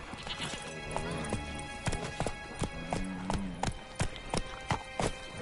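Galloping horse hooves in The Witcher 3, a rapid, close clip-clop rhythm with a brief whinny and game music or ambience underneath.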